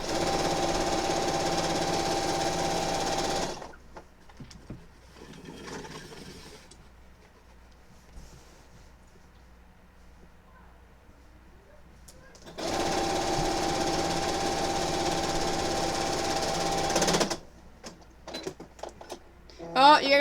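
A sewing machine stitching a quilt, running in two long fast mechanical bursts separated by a quiet pause filled with faint handling and fabric noise, loud and close.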